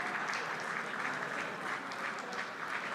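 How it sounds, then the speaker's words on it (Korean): Sustained applause with some cheering fills a parliamentary plenary hall, steady and dense throughout, heard from a distance with no talk over it. "지금 본회의장에서 환호성도 좀 들리는 것 같고 박수 소리가 끊이질 않고 있는 것 같습니다"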